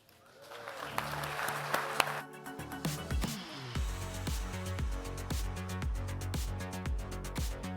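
Conference audience applauding, a dense burst of clapping in the opening seconds that fades as loud rhythmic music with strong beats takes over.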